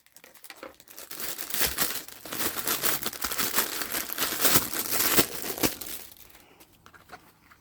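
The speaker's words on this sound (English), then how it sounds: "so I'm just going to use my scissors." Crinkly plastic packaging crackles and tears in quick bursts for several seconds as scissors cut it open, close and fairly loud, then it settles toward quiet.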